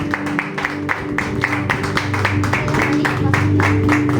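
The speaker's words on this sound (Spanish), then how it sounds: "Dar unas fuertes palmas al Señor." Congregation clapping loudly during a church service, a steady rhythmic run of hand claps over sustained music, close and full throughout.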